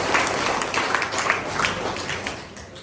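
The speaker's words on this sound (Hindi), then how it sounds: "तालियां हो जाए इनके लिए।" An audience at a school event for Kisan Diwas applauds students, a brief burst of scattered clapping that fades slightly toward the end.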